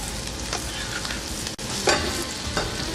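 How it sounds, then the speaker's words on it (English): Sliced bacon, shallot and other ingredients sizzle as they sweat in a pan, a loud steady frying hiss with brief stirring scrapes and a short dip partway through. "So we're basically just going to sweat all the ingredients off together."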